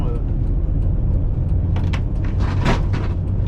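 A 1998 Renault Kangoo 1.9 diesel van is heard from inside the cabin while driving, with a constant loud low road rumble and drone and a few brief rattles or clicks.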